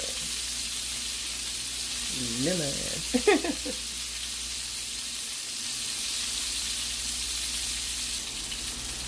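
Hot oil sizzles and pops steadily in a frying pan while scallops are pan-seared, a loud continuous crackle with a brief tonal, voice-like sound in the middle.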